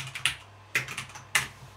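Computer keyboard keys pressed for a shortcut in video editing software, three sharp separate clicks about half a second apart, close and distinct over a faint low hum.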